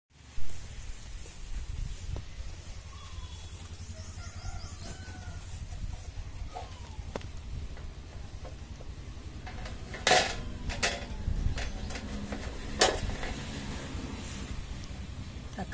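Washed tomatoes are cut by hand, giving faint clicks and taps of a knife on a board over low background noise, with a few sharper knocks toward the end and no speech.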